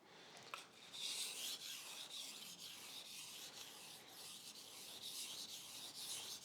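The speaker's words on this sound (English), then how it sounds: "we're going to sharpen in the other direction" A kitchen knife is stroked along a sharpening surface in steady, repeated hissing rubs, close and quiet, with no voices.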